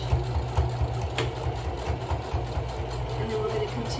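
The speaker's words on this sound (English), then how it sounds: "And then we're gonna continue sewing." Sewing machine stitching a fabric shopping bag, its rapid mechanical needle chatter and motor hum running steadily up close, with a voice speaking faintly beneath.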